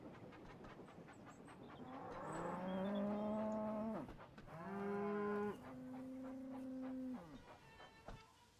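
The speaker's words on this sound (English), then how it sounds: "cows were blocking the line" Cows moo in the Choo Choo Wonderland train video game, three drawn-out, fairly loud calls in succession over a low rumbling background.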